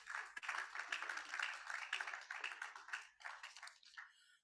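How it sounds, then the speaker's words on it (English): An audience applauds at a roundtable event: a faint, even patter of many hands clapping that carries on steadily and tapers off near the end, with no voices. "please, let's give him a big round of applause."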